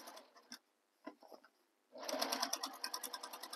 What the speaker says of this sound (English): So stitching up the center, I'm just going to move this pin out of the way that I placed there